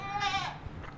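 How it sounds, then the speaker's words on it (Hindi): A Tapri goat at a livestock market gives one short, wavering bleat up close, followed by faint market background noise. "ये एक टापरी बकरी है, दवाली टापरी"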